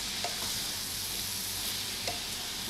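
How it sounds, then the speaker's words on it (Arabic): Mushrooms with yellow and white peppers being stirred in a frying pan for a vegetarian béchamel pasta, a continuous hiss of frying with a couple of soft scraping stirs, close up and without speech. "وفلفل الأبيض، واسيبهم هقلبهم تقليبة كده مع بعض"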